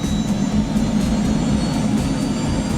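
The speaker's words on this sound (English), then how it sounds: "So first engine started up" A helicopter turbine engine spools up during a start, a steady loud whine and roar with a low rumble that holds even throughout, heard close and without voices.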